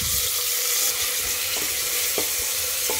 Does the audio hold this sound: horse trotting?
no